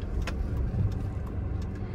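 A car creeps forward on the clutch alone with no throttle, giving a steady, close, low engine rumble that holds even throughout.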